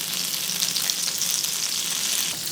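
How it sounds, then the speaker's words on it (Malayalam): Oil and butter sizzle steadily on a hot tawa for porotta, a bright, close, even hiss with no voices. "തവയിലേക്ക് 1 ടീസ്പൂൺ ഓയിൽ ചേർക്കുന്നുണ്ട്. 1 ടേബിൾ സ്പൂൺ ബട്ടർ ആഡ് ചെയ്യാം."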